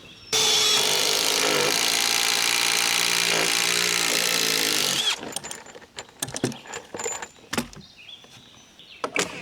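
A quarter-inch power drill bores into wood while a bridge is being built, one loud sustained whine lasting about five seconds, then scattered knocks and handling clatter.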